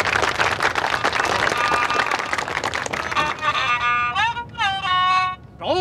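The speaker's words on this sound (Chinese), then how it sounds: "来，鼓鼓掌" Villagers clap in a lively burst before a folk singing performance, a dense patter under scattered voices, then the applause thins as a singer's drawn-out melodic voice comes in.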